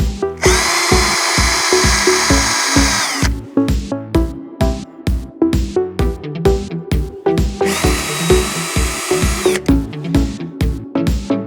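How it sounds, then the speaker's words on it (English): A power drill whirs in two long bursts, drilling holes in wood for a vegetable garden cover, between rapid rhythmic clattering and tapping, close and loud. "So I'm going to start drilling the holes."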